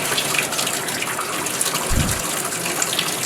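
Water pressure is bled from a Moen shower valve after the supply has been shut off, giving a steady hiss of running water with a brief low gush near the middle, close and continuous.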